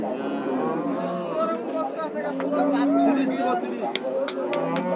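A cow lows amid a busy crowd of people talking, with a lively outdoor cattle market hubbub in Rajshahi and a few sharp knocks near the end.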